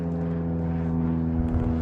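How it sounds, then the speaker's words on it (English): A propeller airplane drones overhead, a steady low engine hum with layered tones, continuous and moderately loud outdoors with no talk. "there's a nice plane going over"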